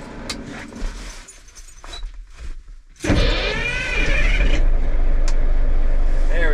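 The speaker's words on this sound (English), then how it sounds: "See how the old Kenworth starts up today." An old Kenworth log truck's diesel engine cranks and catches at about three seconds, then settles into a loud, steady idle that fills the rest of the clip, with some small knocks and shuffling before it starts.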